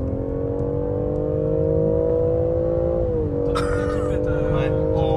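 BMW X3 M Competition Stage 1 engine held on launch control, a loud steady droning hum with the pitch dipping slightly before settling, with bursts of crackle and a voice talking over it.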